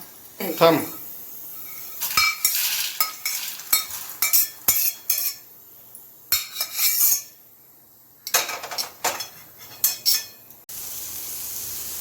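A metal spoon scrapes roasted fresh green chickpeas, cooked in a little oil, out of a pan, making bursts of clinking and scraping with short pauses between.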